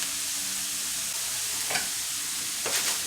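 Egg roll filling is stirred in a pan, a soft continuous scraping and sizzle with a couple of brief louder scrapes near the end, close and unaccompanied by talk.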